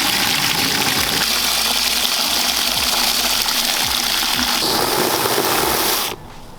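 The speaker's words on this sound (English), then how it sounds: "Now here we're going to fill up our wash buckets here." Water gushing loudly into car wash buckets, a steady close rush with a slight change in tone as one fills, cutting off abruptly near the end.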